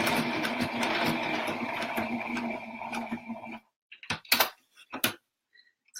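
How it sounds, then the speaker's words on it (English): A sewing machine topstitches over appliqué on a slouchy toy sack, running steadily and close for about three and a half seconds before stopping, followed by a few sparse clicks and handling sounds. "So I'm just quickly top stitching over my applique."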